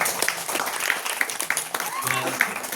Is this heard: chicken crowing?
no